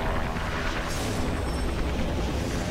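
Helicopter crashing and exploding in the video game Beyond Two Souls, a loud sustained rumbling blast with a sharp burst near the start and continuous roaring debris noise throughout.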